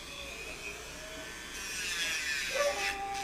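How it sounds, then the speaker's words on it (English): A Dremel rotary tool filing a dog's nails makes a faint, steady whir that rises in pitch and grows brighter partway through, then shifts as it meets the nail. "So I'm going to go ahead and use the Dremel."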